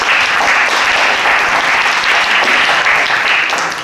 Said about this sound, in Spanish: Te recibimos con un aplauso también,